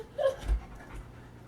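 A boxer dog pants close by in short, soft breathy puffs, a few quick breaths over a brief moment.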